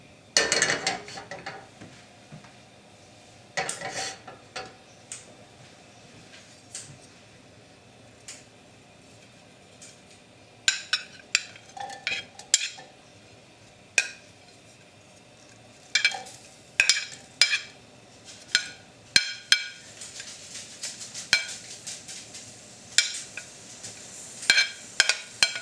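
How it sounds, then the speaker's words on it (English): Garlic and onion frying in a heated pan, a soft steady sizzle under intermittent scraping and clanking as a utensil stirs them, growing busier toward the end. "add the garlic and the onion once this is heated up"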